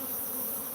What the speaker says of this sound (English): now all these bees flying around